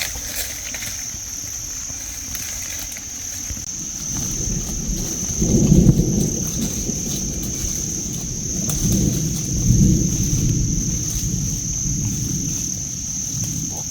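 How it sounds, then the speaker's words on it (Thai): Low rumbles of thunder swell twice over the steady patter of rain, with a constant high insect drone in the background. "ตอนนี้ฝนก็เริ่มย่อยเม็ดนะครับ"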